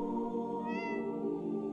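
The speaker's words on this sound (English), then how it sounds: "Blasted cat. That was my last piece of fish." A single short meow from a cat in the horror game Tatiana rises briefly above a steady droning background of game music and ambience.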